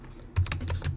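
Quick keystrokes on a computer keyboard enter a Linux terminal command, a short close burst of about half a dozen clicks after a brief pause.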